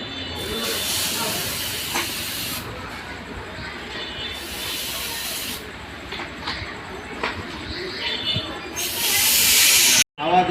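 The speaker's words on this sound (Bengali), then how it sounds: "হাওয়া দিয়ে ওয়াশ করে দিচ্ছি প্রতিটা" Compressed air blasts in long loud hissing bursts, several in a row with short gaps, cleaning the parts of a Hero Honda CD/Splendor-type motorcycle carburetor, the Hero Honda having sat unused for 18 months.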